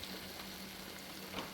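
Ghee sizzling in a pan while carrot jamun is cooked, a faint, steady crackle across the short stretch with no talking.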